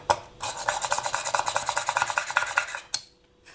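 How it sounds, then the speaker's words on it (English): A push drill makes holes in polymer clay: a rapid, steady scraping rasp repeats for about two and a half seconds, close and fairly loud, then stops with one short final scrape. "I'm just going to take this push drill, which is an automatic piece, and I'm going to drill holes"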